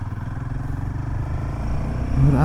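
A motorcycle rides along a road on a rainy trip, its engine a steady low pulsing rumble that swells slightly toward the end, close and continuous with wind noise.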